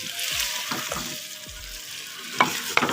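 Peas and mixed vegetables frying in a pan for a dhaba-style mix veg, a steady broadband sizzle with a few soft stirring scrapes and two sharper clinks near the end, close and fairly loud, no voices.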